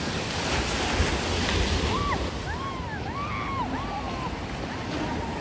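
Sea waves roll in steadily on Vengurla beach, a broad continuous surf roar with wind buffeting the microphone and a few faint high calls drifting over it.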